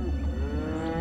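Cattle moo in a steady, deep, sustained call, close and loud throughout a brief moment.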